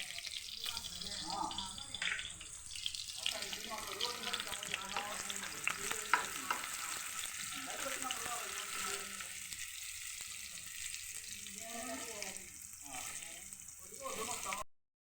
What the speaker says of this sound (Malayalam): കറിയിൽ ഉള്ളി മൂപ്പിക്കണം.